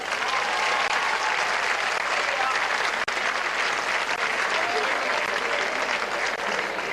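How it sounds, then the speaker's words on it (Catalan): Loud, sustained audience applause at a town patronal festival in Benigànim, a dense steady wash of clapping lasting the whole stretch with only a momentary dip. "Per a tots ells els demane públicament un fort aplaudiment."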